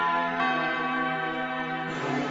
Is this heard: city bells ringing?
yes